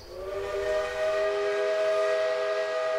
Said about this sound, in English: A steam engine, chuffing its way through the North Carolina mountains.